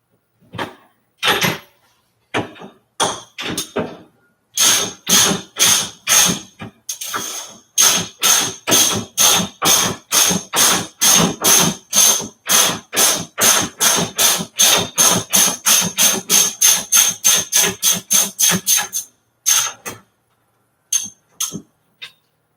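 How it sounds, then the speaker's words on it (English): Rapid, close ratchet wrench clicks in quick bursts as a suspension nut on a Lotus Elise is backed off, sharp and loud with brief pauses between runs and no talking. "So that nut is removed."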